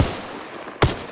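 Gunfire in the military shooter game Arma Reforger: two sharp, loud bursts, one at the very start and another near the end, with a steady rumbling background between them and no talking.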